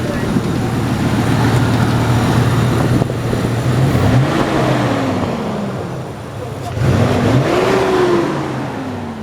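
A Lincoln Town Car engine revs up and settles twice, rising pitch sweeps over a steady rumbling idle, loud and close.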